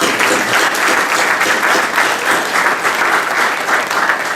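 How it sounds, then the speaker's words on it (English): A conference audience at a sport management keynote gives a sustained round of applause, dense steady clapping from many hands filling the room evenly for several seconds without talk. "So one more round of applause."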